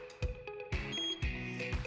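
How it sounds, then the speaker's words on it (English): The gauge of a Rotary R138 wheel balancer emits faint electronic beep tones while measuring an aluminum wheel for clip-on and stick-on weights, with soft repeated clicks and bumps from handling the gauge in a quiet workshop. "You will then take it to the farthest outside away point until you hear the beep."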